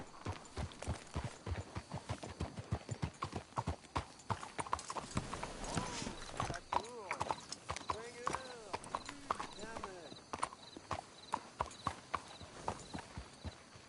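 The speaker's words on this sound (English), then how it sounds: "Let's hitch the horses up ahead." Horse hooves clip-clopping in the video game Red Dead Redemption 2, a steady rhythmic walking gait with a few snorts and whinnies, while characters talk over it.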